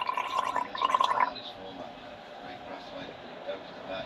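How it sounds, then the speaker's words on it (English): A person gargles sea water, a bubbly throaty burst lasting about a second up front, then dies into a quieter murmur of voices and background noise. "just gargle it."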